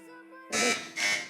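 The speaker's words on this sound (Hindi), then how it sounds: "जी, बजर बजा दी है ARMI स्कूल की टीम ने।" Buzzer pressed by a school team on a children's Ramzan quiz show, two loud bright bursts in quick succession, each cutting in sharply over a faint steady electronic tone.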